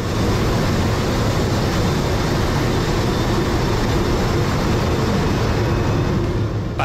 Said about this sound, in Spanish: Así es como se guarda el tren de aterrizaje de los aviones